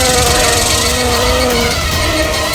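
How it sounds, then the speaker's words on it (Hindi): Flies buzz inside a car in a steady, close, continuous drone that stays loud for the whole stretch, with no talking over it. "भाई इतनी मक्खियाँ गाड़ी में कहाँ से आ रही है?"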